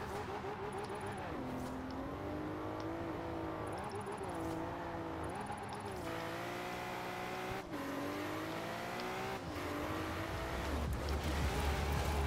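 A car drifts in Forza Horizon 4, its engine revving and shifting in rising and falling waves with tire noise over a steady, loud roar that swells toward the end.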